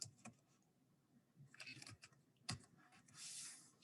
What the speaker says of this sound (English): Anybody have any questions right now while I'm typing?